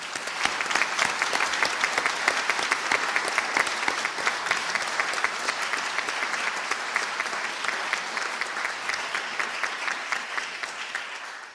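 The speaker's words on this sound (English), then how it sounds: "We'll now have a round of applause for all new members." Audience applause at a medical college membership ceremony welcoming new members, dense and sustained clapping from a large crowd that tapers slightly toward the end.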